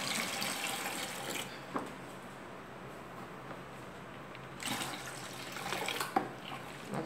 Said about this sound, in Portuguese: Agora eu vou acrescentar mais 1 litro d'água.